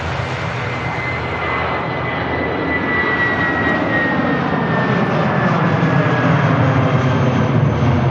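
A fixed-wing airliner climbs out after takeoff at Manchester Airport on a flight bound for Barcelona, a steady loud engine roar holding constant for the whole stretch, no talk.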